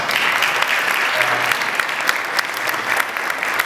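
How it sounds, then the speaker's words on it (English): An audience at a student presentations event gives a steady round of applause for a presenting group, dense clapping throughout with no talk over it. "a round of applause for Grant Park"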